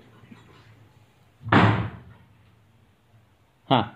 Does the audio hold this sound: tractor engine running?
no